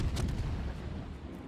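Heavy naval gunfire from the battleship Amagi in the World of Warships video game, a deep, loud rumbling boom at the start that rolls off and decays over the next second.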